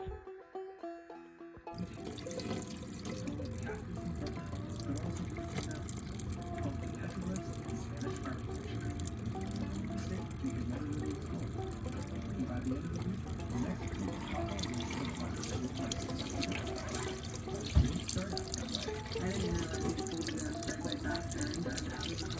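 Tap water runs steadily into a sink while homemade wood ash lye tallow soap is tested for lather; the close, continuous splashing flow starts after a brief quiet moment and carries on without talk.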